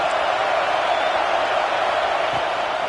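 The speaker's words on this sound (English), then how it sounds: "The Buckeye crowd alive on third down." An Ohio State Buckeyes football stadium crowd roars in a dense, steady wash of cheering on third down, loud and sustained, with a commentator's voice mixed in.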